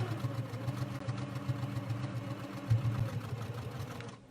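An Elna Elnita EF1 sewing machine runs steadily while stitching across thick bag handles, a continuous close mechanical hum with a brief louder strain near the middle, no talking.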